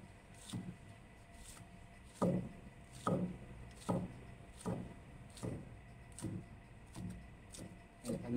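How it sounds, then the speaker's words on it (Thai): A knife slices about ten yardlong beans diagonally on a cutting board, giving soft evenly spaced chops roughly once a second, close and faint, with no talk. "ขั้นตอนแรกนะทุกคนเราจะหั่นถั่วก่อนนะ"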